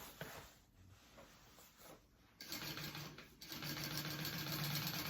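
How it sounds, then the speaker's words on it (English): A sewing machine top stitches a pocket on a tote bag at a quarter-inch seam allowance, whirring in close bursts with short pauses before running steadily and louder toward the end. "top stitch this pocket at 1/4 of an inch seam allowance"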